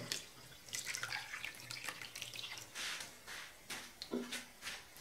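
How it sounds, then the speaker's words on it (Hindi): Cold water is poured straight into a container already heated to about 85 degrees by a 12V bulb, giving quiet, uneven splashing and trickling bursts over several seconds. "अब मैं इसमें ठंडा पानी डायरेक्ट डाल के चेक कर लेता हूं।"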